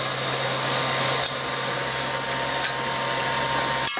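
A compressor pulls a vacuum on a repurposed helium tank with a loud, continuous whirring drone that holds steady throughout, ending in a brief click.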